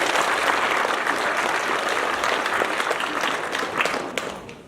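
A theatre audience at an amateur play and awards evening in Gulyantsi applauds loudly and steadily, the dense clapping thinning and fading toward the end.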